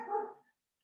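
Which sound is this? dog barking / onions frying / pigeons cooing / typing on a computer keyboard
dog barking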